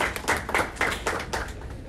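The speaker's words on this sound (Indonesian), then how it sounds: "Boleh dong kita minta tepuk tangan untuk PSSI kali ini." An audience at a football club event responds with a short burst of applause, a handful of distinct rhythmic claps close by that fade toward the end.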